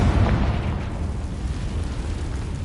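Confringo spell explosion in Hogwarts Legacy, a loud fiery boom that bursts at once and rolls into a heavy rumbling decay.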